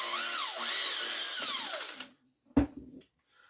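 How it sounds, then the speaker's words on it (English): A 5/8 reamer powered by a drill whines through holes in a cartridge choker, a close rising and falling motor whine lasting about two seconds before stopping, followed by a single sharp knock. "I just use a 5/8 reamer and just ream them out."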